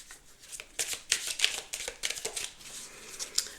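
A deck of oracle or tarot cards shuffled and drawn by hand, giving a close run of crisp riffling, flicking and sliding card sounds in quick irregular bursts, with no talking.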